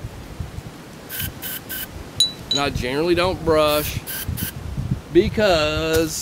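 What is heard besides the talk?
spraying cleaner into Glock 19 pistol barrel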